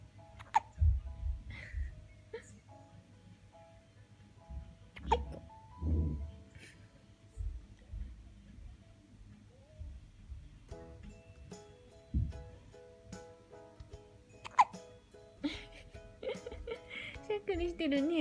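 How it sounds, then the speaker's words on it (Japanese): A five-day-old newborn hiccups in a series of short, sharp, squeaky hics spaced several seconds apart, close by, with soft adult voices murmuring between them. "しゃっくりしてるね。"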